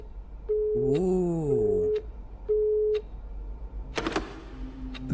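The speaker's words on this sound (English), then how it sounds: "That phone call was in very bad taste." Telephone line tones sound during a phone call: a steady beep, a wavering warbled tone and a shorter repeated beep like a busy signal, followed by a brief voice and a rustle.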